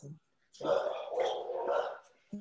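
Several dogs in a house barking and yapping in a loud, close, continuous burst, with a short yelp at the start and another at the end.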